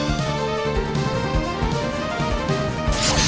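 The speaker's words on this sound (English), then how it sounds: "A smashing blow!" A smashing attack hit lands in a Pokémon Battle Revolution Colosseum battle, a loud impact crash buried under dense, continuous game music and effects.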